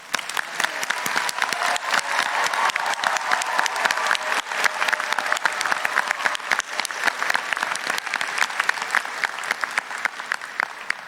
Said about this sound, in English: So let's take a moment to acknowledge our grads with a big round of applause.